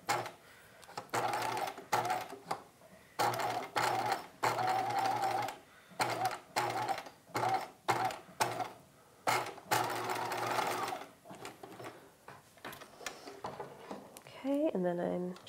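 A sewing machine runs a straight stitch along zipper tape on a halter dress, in a string of short and longer bursts with pauses between, close and clear, while a person talks quietly.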